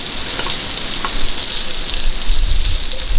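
Cabanossi slices and onion rings sizzling in melted lard in a Dutch oven, a loud, steady hissing crackle with bursts of popping, close up and without voices.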